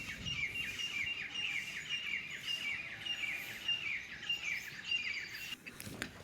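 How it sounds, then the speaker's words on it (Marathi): Birds chirp on a rural village morning, with repeated bright tweets and calls in a steady chorus over a soft outdoor background. "या वातावरणात पक्ष्यांचा मधुर किलबिलाट ही चालूच असतो"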